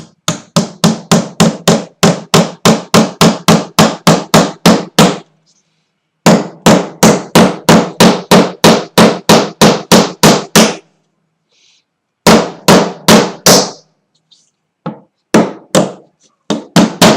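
Rapid, sharp hammer blows drive nails in quick steady bursts during woodworking, pausing briefly between runs, loud and close, with a few scattered taps at the end.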